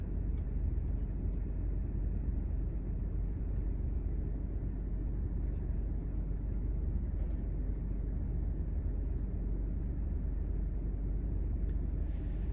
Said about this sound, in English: That sure is a big old truck